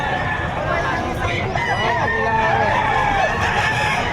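Chickens and a rooster crowing amid a busy livestock auction market in Padre Garcia, Batangas, a drawn-out crow rising over steady crowd babble and nearby clucking.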